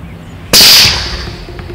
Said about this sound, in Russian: раздался точный выстрел